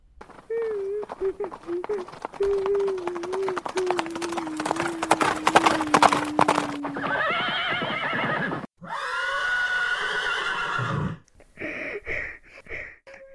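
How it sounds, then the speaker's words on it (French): Hooves clip-clop steadily while a horse whinnies, then loud neighs and snorts follow in separate bursts, close and prominent. "Il fut réveillé au lever du jour par le bruit d'un cheval."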